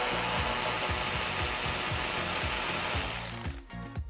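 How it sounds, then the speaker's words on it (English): An 8mm socket wrench undoing a bolt on the airbox of a 2011-2022 Dodge Charger 5.7L HEMI, a rapid rhythmic ratcheting chatter that runs steadily and close, then stops and fades into faint clicks. "And taking that same 8mm, undo the bolt in front of the airbox."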